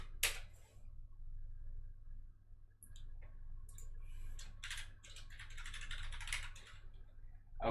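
Bursts of typing on a computer keyboard as a web address is entered into a hostname field, quick clusters of clicky keystrokes separated by short pauses, close and fairly quiet.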